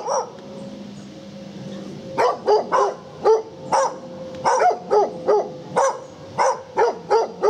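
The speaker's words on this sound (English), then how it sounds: "So there you go, still barking" Two dogs bark in loud, irregular bursts close by, sharp yaps repeating in quick clusters after a brief quieter whine, with no talking, heard on a countryside walk between Liphook and Haslemere.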